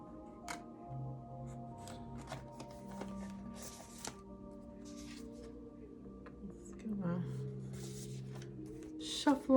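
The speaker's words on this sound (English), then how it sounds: "Shuffle them up a little bit more." A sticky deck of cards is shuffled by hand in soft, scattered rustles and flicks, with a person speaking throughout.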